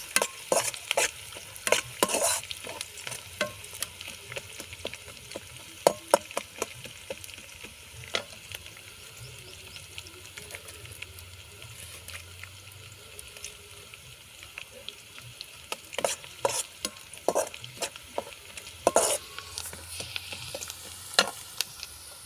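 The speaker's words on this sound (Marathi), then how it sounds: "त्यामध्ये कांदे आता चांगले होऊ द्यायचे तेलामध्ये" Onions fry in hot oil for Nagpur-style tarri poha, a soft continuous sizzle punctuated by irregular scraping and clinking stirring strokes of a spoon against the pan, clustering in bursts, with no talking.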